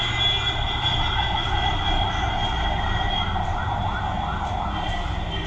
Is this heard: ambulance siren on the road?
yes